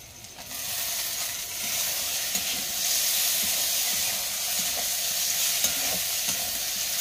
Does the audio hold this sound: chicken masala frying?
yes